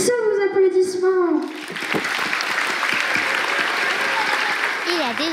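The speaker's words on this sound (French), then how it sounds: "Sous vos applaudissements" An audience of schoolchildren in Tahiti applauds to welcome astronaut Thomas Pesquet, a sustained crowd of clapping and cheers breaking in after a loud announcer's voice.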